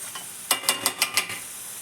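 Onions and tomatoes sautéing in a pan, heard as a quiet sizzle broken by five quick, evenly spaced scraping stirs, close and without any voice.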